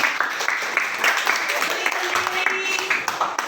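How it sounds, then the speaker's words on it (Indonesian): Classroom applause from students after a group presentation, a dense patter of clapping across several seconds with voices mixed in. "Tepuk tangan untuk kelompoknya."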